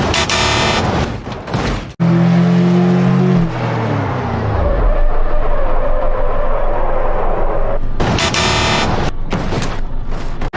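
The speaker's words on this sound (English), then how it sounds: "Tesla Cybertruck vs. Ford F-150 Raptor. Brake test." A Tesla Cybertruck and a Ford F-150 Raptor in a brake test, heard as loud, continuous vehicle and road roar with a falling tonal sweep as one slows, then another loud rushing pass near the end.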